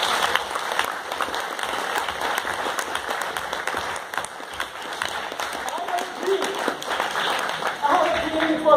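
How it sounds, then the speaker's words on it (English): An audience applauds a speaker at a Toastmasters event, producing a dense, continuous wash of many hands clapping that holds steady for several seconds and swells slightly toward the end. "Give a huge round of applause to each one of you."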